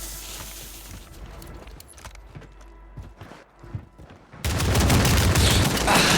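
Gunfire in the video game Warzone starts with scattered sharp shots, then breaks into a loud, sustained burst of rapid fire that dominates the end.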